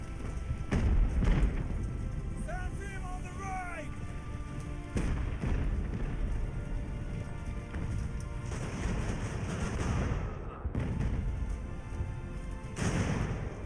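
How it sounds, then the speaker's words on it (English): Cannon fire rumbles through a naval battle in Ultimate Admiral Age of Sail, with repeated deep booms and thuds over a dense, noisy battle bed, a few sharp bursts standing out near the start and later on. "they're being hit by cannons"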